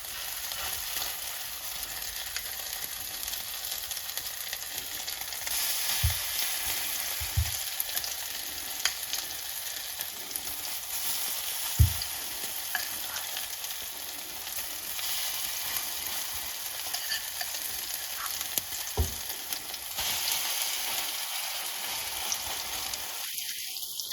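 Zucchini fritters fry in warm oil in a pan, giving a steady, quiet sizzle with a few soft pops and clicks; no one talks.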